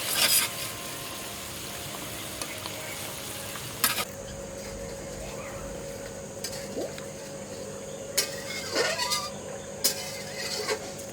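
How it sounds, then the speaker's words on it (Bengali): Small puti fish dropped into a boiling curry of helencha greens, giving a steady close sizzle and bubbling with a few sharper clatters and splashes scattered throughout. "আমি এখন মাছটা দিয়ে দেব।"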